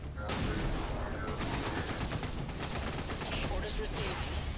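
Enemy gunfire in the tactical strategy game XCOM 2, a dense continuous burst of rapid shots and crackling fire filling the whole moment, loud and sustained with a voice faintly mixed in.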